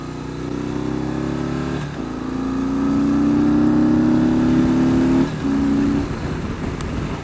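A Harley-Davidson Softail Slim S with the 110 V-twin revs up. Its engine note climbs and holds for several seconds, drops off briefly and then rises again. The sound is loud and close, with no talking.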